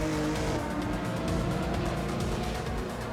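Race cars in a racing video game, engines droning steadily and loudly without a break, with a dense layered roar of several cars running together.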